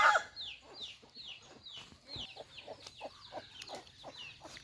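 Chickens clucking in a rural Thai farmyard as they gather to feed, a steady run of soft, repeated clucks and short calls at close to middle distance, fairly faint and without talk.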